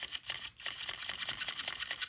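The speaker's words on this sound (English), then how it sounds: "you can hear a little bit of a squealing" Winding mechanism of a Canon AE-1 Program film camera gives a thin, high squeal with a rapid ratcheting pulse as it is wound, heard close up and alone.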